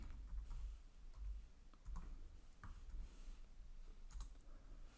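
Keys clatter steadily on a computer keyboard while commands are typed into Command Prompt, a continuous close run of soft clicks with a few louder taps, no voices.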